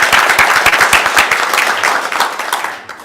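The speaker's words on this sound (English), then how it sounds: "let's give everybody another round of applause" Close, loud applause from an audience at a sister city announcement in Bethlehem, a brisk burst of many hands clapping that gradually thins and fades out near the end.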